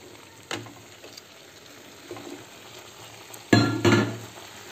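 Semolina halwa frying in a pan as sugar is stirred in, with a few bursts of spoon scraping and sizzling, the loudest near the end, over a quiet background.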